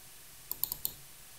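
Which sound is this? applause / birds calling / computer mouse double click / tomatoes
computer mouse double click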